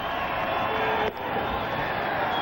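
Steady crowd murmur in a ballpark during the 9th inning of the 1997 World Series Game 3, Marlins at Indians in Cleveland, a continuous broad wash of distant fans with one brief dip.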